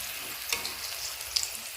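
Pointed gourd (potol) frying in oil in a pan, a soft steady sizzle up close with a couple of sharp little pops and a light scrape, no voices.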